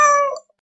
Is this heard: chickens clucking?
no